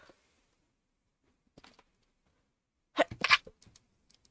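A single sharp sneeze bursts out near the microphone after a quiet stretch, preceded by a faint soft sound.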